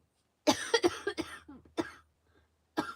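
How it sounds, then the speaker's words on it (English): A run of sharp, harsh coughs close to the microphone, several in quick succession, then a pause and one more cough at the end. "I'm so sorry about the coughing"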